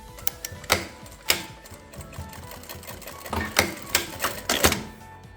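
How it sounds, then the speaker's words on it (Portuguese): A sewing machine stitches a baby blanket in short stop-start bursts of rapid mechanical clatter, each a few tenths of a second long, close and fairly loud, with quiet pauses between. "a gente vai voltar e refazer costuras apenas desse pedacinho"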